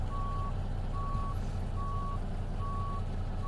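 A truck in American Truck Simulator backs up with its reversing alarm sounding four evenly spaced beeps over a loud steady diesel engine rumble.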